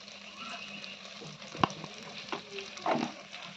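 Spice paste with turmeric sizzles quietly in a pan, a steady low crackle with a few soft scraping knocks from stirring, close and faint, with no talking.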